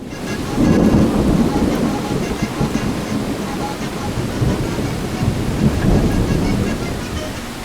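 Steady heavy rain with deep rumbling thunder in a mountain valley in South Tyrol, a dense continuous roar with swells of low thunder and no voices.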